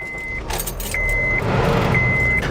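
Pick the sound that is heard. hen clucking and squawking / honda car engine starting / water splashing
honda car engine starting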